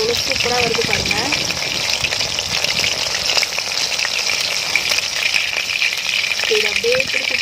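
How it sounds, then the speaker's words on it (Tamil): Anchovy fish 65 fries in hot oil with a loud, constant, close sizzle and bubbling hiss that runs throughout. A voice speaks briefly at the start and again near the end. "மசாலா பாருங்கள், எண்ணெயில் இறங்காமல் எவ்வளோ சூப்பராக வருது பாருங்கள்."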